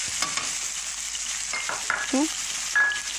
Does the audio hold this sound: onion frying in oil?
yes